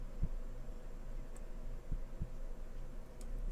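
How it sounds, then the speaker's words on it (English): Faint heartbeat in a late-night horror video game, a few soft, low thumps spaced irregularly over a quiet hum, with no speech. "Why is there a heartbeat?"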